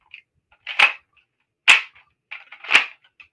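A Nerf blaster firing foam darts, three separate sharp snapping pops about a second apart with small clicks of priming between them, close and alone in a quiet room.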